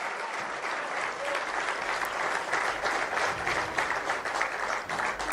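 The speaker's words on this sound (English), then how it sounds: "and this is applause." A crowd applauds steadily, a sustained wash of clapping that stays loud throughout.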